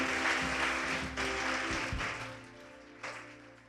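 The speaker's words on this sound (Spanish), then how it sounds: "Give the Lord a round of applause." A church congregation claps in a dense burst of applause that thins and tapers off, with a brief renewed clap near the end, moderately distant.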